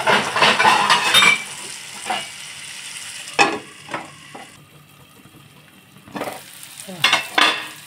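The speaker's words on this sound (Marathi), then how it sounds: "आपण झाकण मारून ठेवूया, म्हणजे हे जरा नरम होतं कांदो आणि टॅमॅटो" Onion and tomato cook in a pan for an okra masala, sizzling and being stirred with a utensil in loud bursts, then covered with a lid and left to sizzle quietly between occasional clinks and scrapes.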